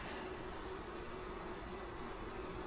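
Dense, steady hum of many honey bees filling an open beehive at close range, with a constant high whine running underneath throughout.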